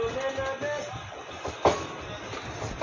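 A train pulling into Puri station, with rolling clatter and a few sharp metallic clanks and screeches over a continuous rumble. It is heard close and at moderate loudness, with no talking.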